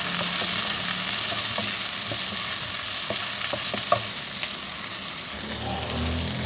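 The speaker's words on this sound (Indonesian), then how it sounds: "Kita osreng-osreng sebentar sampai warnanya berubah." Eggplant stir-fried in a pan gives a continuous loud sizzle and hiss, broken by scattered clicks and scrapes of stirring, close up and steady throughout with no speech.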